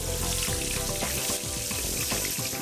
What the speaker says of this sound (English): It's important to fry all the sides of the fish.